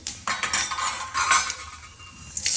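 Oil, mustard seeds and chana dal going into a pan for rava upma, heard as clattering metal spoon and pan clinks with light scraping, close by and without talk.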